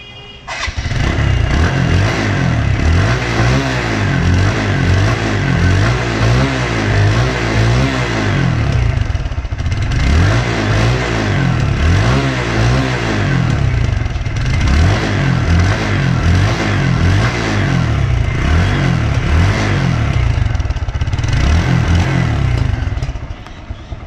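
A Stryker 125cc motorcycle engine idles and revs repeatedly up close, its loud throbbing drone swelling and dropping in several waves throughout.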